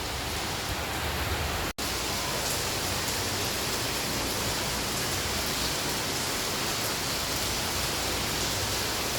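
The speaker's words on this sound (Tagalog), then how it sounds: "So, it's raining." Rain pours steadily in Boracay, a dense, even hiss of falling water filling the whole scene without a break, loud and close, with no voices.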